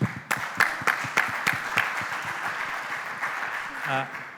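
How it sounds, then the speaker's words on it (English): Applause from an audience, a burst of claps at first that settles into steady clapping, with a voice briefly audible near the end. "Please, big applause for the mother."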